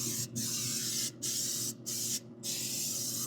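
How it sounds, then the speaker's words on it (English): Four bursts of cooking spray hiss loudly and close onto pellet smoker grill racks, each lasting under a second, separated by short pauses over a steady low hum. "So I'm going to get these racks nice and sprayed."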